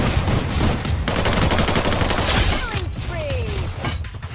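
Rapid automatic gunfire in a shooting video game, bursts of shots crackling continuously with shell and mechanism clinks, while a player talks over it.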